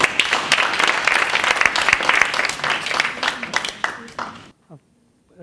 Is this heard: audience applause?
yes